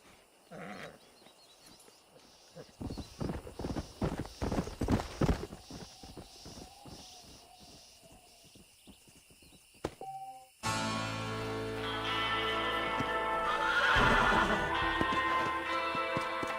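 A stallion in the Red Dead Redemption video game snorts and neighs amid a burst of rhythmic hoofbeats, then quieter movement, before a louder, denser stretch of game music and ambience takes over.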